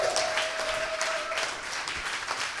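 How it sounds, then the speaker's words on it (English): At a web development bootcamp demo day, a crowd claps in a brief, even wash of applause that stays moderate and continuous with no clear pauses. "Give us some applause to the back-end."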